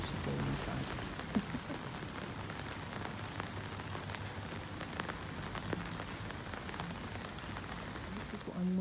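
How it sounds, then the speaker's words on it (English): Light late-summer rain falls in a small town garden as a soft, steady patter with scattered drops tapping on surfaces. It continues evenly throughout, and a faint hum sits in the background. "It's August and it's just raining ever so slightly."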